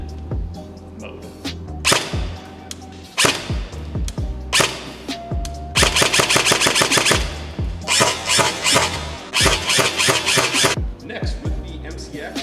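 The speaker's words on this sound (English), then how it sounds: "using the same SIG MCX, I'm going to be shooting the Lighter-R on the green mode." A SIG MCX airsoft rifle fires BBs through an Acetech Lighter-R tracer unit, close sharp pops in single shots and rapid bursts, with brief mechanical squeaks between strings of fire.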